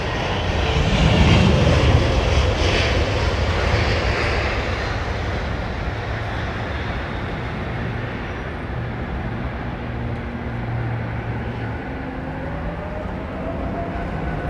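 A Qantas Boeing 787 Dreamliner throttles up at London Heathrow, a loud, deep jet roar swelling early then holding as a broad steady rumble with a faint rising whine, no talk.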